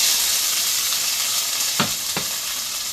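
Peppers and green onions hit a hot frying pan for pork and plantain fajitas, producing a loud, continuous hissing sizzle close by, broken by two quick scraping stirs near the end, with no talking.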